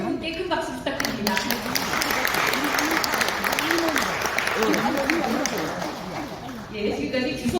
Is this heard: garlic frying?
no